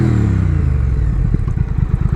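A Triumph Thruxton R motorcycle engine rumbles at a loud idle nearby, its deep throb breaking into a quicker, uneven pulsing toward the end.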